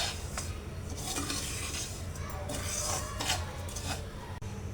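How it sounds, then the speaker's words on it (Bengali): A spoon scrapes and stirs semolina roasting with sugar in a pan for dragon fruit barfi, giving continuous gritty rasping and light metallic clinks at close range with no talking. "চিনিটা দিয়ে আমি আরও 2 থেকে 3 মিনিট সুজিটাকে ভেজে নেব।"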